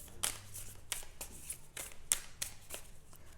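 Tarot cards being shuffled and drawn by hand: a series of soft, crisp riffles and flicks at an irregular pace, close up and fairly quiet, with no talking.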